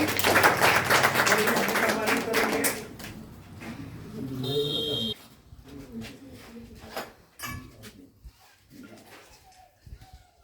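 An audience at an award ceremony for top-scoring students breaks into dense clapping for a topper that lasts a few seconds and then fades, leaving scattered voices and room noise.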